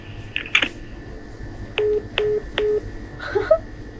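A telephone dials the police, with several short button beeps followed by three evenly spaced dial tones, close and clear over a quiet background, with a little handling noise at the end.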